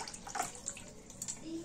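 Tamarind-soaked water is poured into spiced pani puri water in a home kitchen, a short, soft splash and trickle with faint background sounds.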